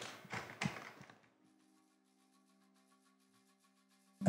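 A melodic synth element rings out with a long delay tail, a short bright phrase at the start followed by sustained faint echoing tones that fade before a sudden hit at the end.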